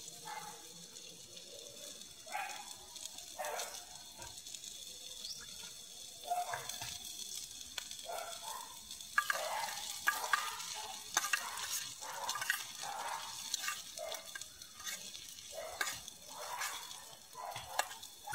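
Onions frying in a pan for paneer bhurji, browning gently, heard as a soft sizzle broken by repeated scraping stir strokes in an irregular rhythm, fairly quiet and close.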